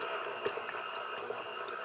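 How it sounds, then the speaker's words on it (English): An electric mixer beating butter gives off rhythmic high-pitched squeaks that repeat about every quarter second, quiet and close, over a faint whirring hum. "excuse the squeaking noise, it's the mixer here."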